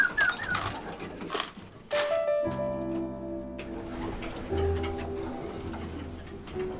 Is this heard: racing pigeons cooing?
yes